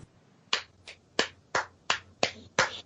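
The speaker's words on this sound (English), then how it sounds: "I'm just applauding." One person claps hands alone in a slightly uneven rhythm. Seven or eight sharp, close slaps come roughly three per second, with near silence between them.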